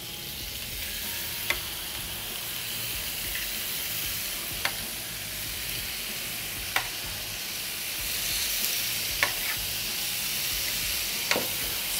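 Slices of pork belly sizzle steadily in a hot pan for home-made bao buns, a continuous close frying hiss with occasional sharp pops and spits.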